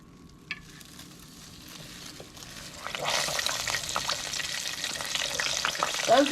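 Potato wedges lowered into hot oil in a Presto Fry Daddy deep fryer: after a quiet start with a faint clink, a loud, steady hissing sizzle takes over and builds with bubbling crackle, close by.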